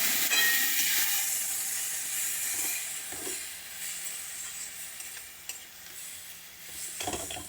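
Water splashed into roasted semolina in a hot pan sends up a loud steamy hiss and sizzle that slowly fades, with a few soft stirring scrapes and clinks.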